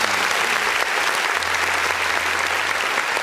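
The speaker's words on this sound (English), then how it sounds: "Let's get a round of applause for 44 Irving." Applause from a small crowd at a live podcast taping, steady and continuous throughout.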